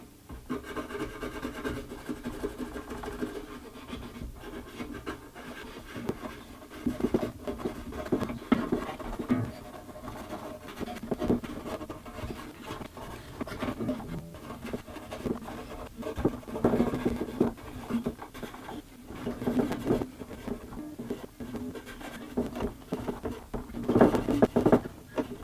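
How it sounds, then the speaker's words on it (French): Fingernail rubbing and scratching grime off the neck of a Gypsy jazz (jazz manouche) guitar, a steady close-up rasping and scuffing with irregular scrapes throughout, no talking. "je frotte bien et j'utilise un peu mon ongle pour gratter"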